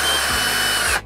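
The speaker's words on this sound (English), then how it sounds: "we're just gonna take an 1/8-inch drill and just drill that hole out" An 1/8-inch drill bores a hole during prep work for installing a WackO Products RV A/C Silencer on a Coleman-Mach air conditioner, a loud, continuous high whine lasting about a second, close up, with a brief pitch dip partway through and no talk.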